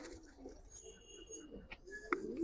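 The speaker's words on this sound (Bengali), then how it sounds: "দেখেন থর করতেছে কবুতর" Soft pigeon cooing from a pair of Giribaj pigeons kept at a house, faint low coos with a few brief sharper chirps over quiet background noise.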